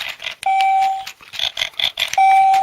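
A Rubik's Revo electronic handheld game sounds its timer, sustained electronic beeps punctuated by quicker chirps and clicks, loud and close with no voices.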